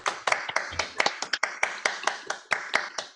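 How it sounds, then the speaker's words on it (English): A small lecture audience claps by hand, sharp irregular claps for about three seconds, close and fairly loud, with no one speaking. "Let's attempt to thank the speaker with clapping in real."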